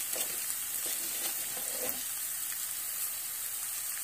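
Turmeric and onion frying in hot oil for pithla give a steady, close sizzle throughout, with a few soft stirring scrapes early on and no voices.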